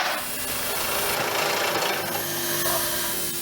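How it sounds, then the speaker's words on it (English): A bench drill bores into seized parts on a 1994 Honda NTV scrambler build, giving a continuous grinding, rasping whir for about three seconds, steady and close, with no talking. "we're trying to use the bench drill just to drill through these and get these out"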